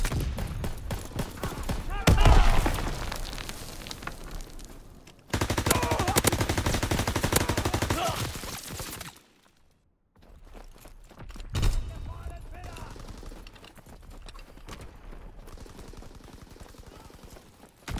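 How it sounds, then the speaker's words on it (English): Rapid automatic gunfire in the World War II shooter Call of Duty: WWII, dense bursts of shots with loud peaks and a brief silence midway, followed by more distant firing and game voice callouts. "Keep firing"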